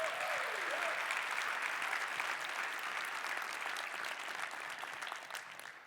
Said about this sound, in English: So give a round of applause for Sean Terry again.